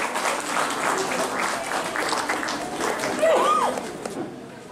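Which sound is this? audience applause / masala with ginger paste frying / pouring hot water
audience applause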